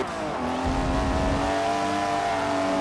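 A BMW M2 engine in Forza 7 revs hard under acceleration, a steady loud racing engine roar with rising tone and a brief low rumble, alone without talk.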